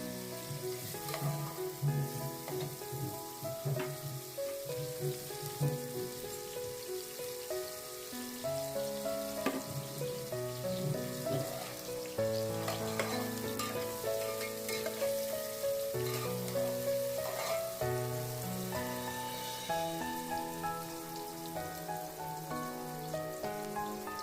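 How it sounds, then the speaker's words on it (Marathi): Onions sautéing in a pan for sukka chicken, a soft continuous sizzle and crackle running throughout under a steady bed of melodic background music. "कांदा ट्रान्सपरंट होईपर्यंत आपण हे परतणार आहोत"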